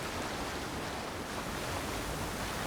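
A waterfall beside a river in the game Avowed gives a faint, steady rushing hiss, even and unbroken throughout, with no voices.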